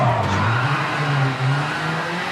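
A rally car in V-Rally 4 slides round a corner, its engine droning loud and close over a continuous tire squeal and skid as the rear end swings out.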